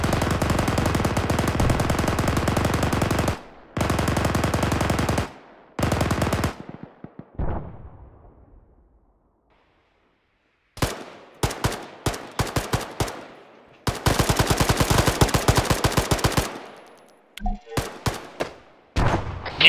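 Bursts of machine gun fire in a tactical military video game during an attack with an armored personnel carrier, loud sustained rattling volleys separated by pauses and echoing tails, ending in scattered shorter bursts.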